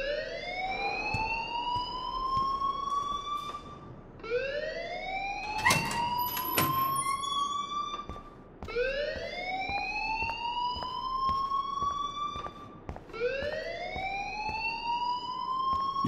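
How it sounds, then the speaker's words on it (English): A fire alarm in the Life Is Strange video game blares loudly in repeated rising electronic whoops, about four cycles in a row. A brief clatter lands between the second and third cycles, and no one speaks. "please turn off that alarm since that's your"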